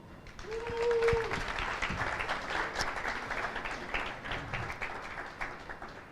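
Audience at a summit claps for a panelist being introduced on stage, a moderate, fairly distant round of applause that swells then slowly thins.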